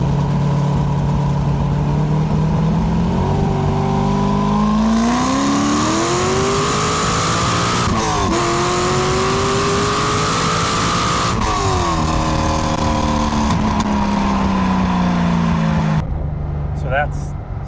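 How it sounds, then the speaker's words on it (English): LS7-swapped 2004 C5 Corvette V8 pulls hard through second and third gear toward about 6,800–7,000 rpm, engine pitch climbing steadily with a quick shift pause, loud and close inside the car, then cutting off abruptly near the end. "Sounds amazing when you really get it up in the revs. The engine really starts coming alive."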